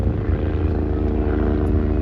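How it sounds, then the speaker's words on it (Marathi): A helicopter flies overhead, its rotor and engine drone loud and steady for about two seconds with no talking. "हे बघा हेलिकॉप्टर."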